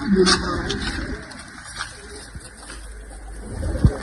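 Pigeons coo inside a large rooftop loft in Punjab, one rounded call standing out near the start, with people talking nearby over a low background hum.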